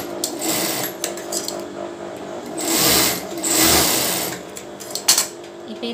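Sewing machine stitching bra fabric pieces, a steady mechanical whir running through in bursts with brief pauses and a few sharp clicks near the end, close and fairly loud.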